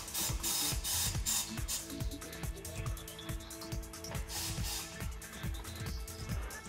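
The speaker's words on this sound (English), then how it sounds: "Rotate the turntable shortly and the upper tire bead is free." A TWIN BUSCH TW X-98 tyre changer turns its turntable to free a tyre bead, giving steady mechanical whirring with repeated ratcheting clicks and knocks, close and continuous with no talk.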